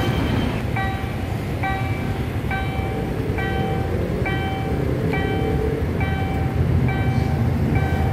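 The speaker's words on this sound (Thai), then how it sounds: "เราก็มาชมรถไฟขบวนแรกนะด้านบนมีน้องหนูแดงวิ่งผ่านไปพอดีนะครับผมแล้วก็ตามมาด้วยรถไฟนะ" At the Prachachuen Road railroad crossing, a warning bell dings in a steady repeating pattern while a heavy rumble of passing rail traffic fills the background, growing slightly louder toward the end.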